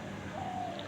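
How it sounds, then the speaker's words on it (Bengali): A single soft dove coos in a quiet green village lane, a brief low call heard alone over faint ambient background. "ঘুঘু ডাকতেছে।"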